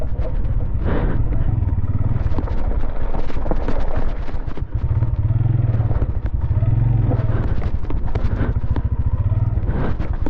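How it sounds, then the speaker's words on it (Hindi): A motorbike rattles and clatters steadily while being ridden slowly downhill over rocks on a rough mountain track, with a continuous low engine rumble and loose metallic knocks throughout. "बाइक से पता नहीं किस किस चीज़ की आवाज़ें आ रही हैं।"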